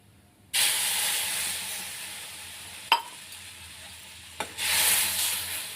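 Milk poured into a moong dal mixture in a pan sets off a sudden loud hissing sizzle that holds steady, broken by two sharp clinks of a utensil, then swells again as frying resumes.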